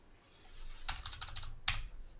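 Fingers typing on a computer keyboard, a short run of quick key clicks followed by one sharper tap, close and fairly faint in a quiet room.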